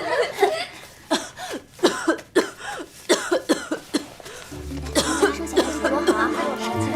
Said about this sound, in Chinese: 隔壁是谁在咳嗽啊？